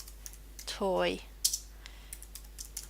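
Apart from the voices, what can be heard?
typing on a computer keyboard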